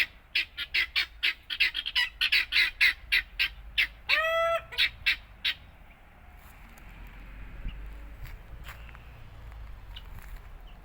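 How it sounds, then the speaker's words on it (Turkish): Rapid series of loud squawking calls from fowl in the first half, then quieter outdoor background with faint distant clucks. "Tokat tavuklarını dışarı çıkıyorlar."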